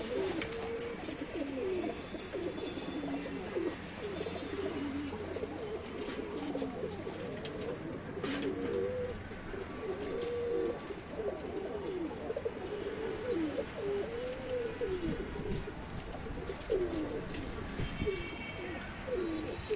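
Pigeons kept as a loft flock for sale in Tanta, Egypt, cooing over and over in soft rolling calls, with several birds overlapping at close range and a few faint chirps and knocks in the background.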